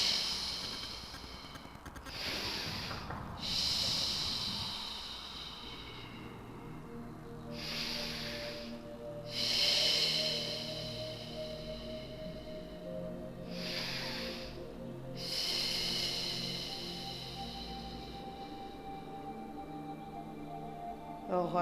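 Breath pushed out during a Pilates exercise, with several long, breathy exhalations rising and fading at a steady pace over quiet room tone, recorded close and clear.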